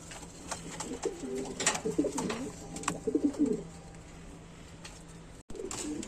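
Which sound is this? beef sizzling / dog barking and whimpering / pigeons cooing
pigeons cooing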